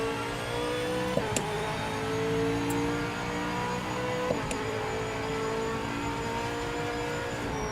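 A V8 supercar engine in the racing game Project Motor Racing drones steadily, its pitch rising and stepping with gear changes, loud and sustained with no talk over it.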